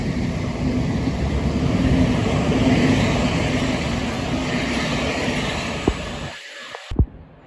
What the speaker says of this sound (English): Next train to pass by is 700 119.